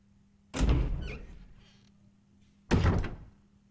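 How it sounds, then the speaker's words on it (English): A door in the Resident Evil video game shuts with a heavy thunk followed by a short rattling decay, then a second loud clunk as it locks, both close and alone over a faint low hum. "Let's lock that door and prevent that horror from escaping."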